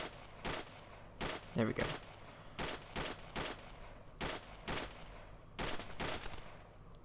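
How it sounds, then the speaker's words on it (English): Sniper rifle shots crack out in the Wasteland video game, about a dozen sharp, loud reports spaced irregularly over several seconds, with a voice briefly speaking between them. "as you just heard, they started returning fire"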